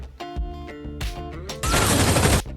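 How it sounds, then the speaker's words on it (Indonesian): An explosion blasting apart a house's fence wall in a Korean action drama: a sudden loud broadband crash of debris and rumble, lasting under a second, following tonal score music. "Tiba-tiba, terdengar suara ledakan"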